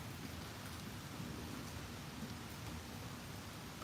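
Steady rain easing off after a Tampa, Florida afternoon thunderstorm, a dense, even hiss of drops on surfaces that holds at a constant level throughout with no voices.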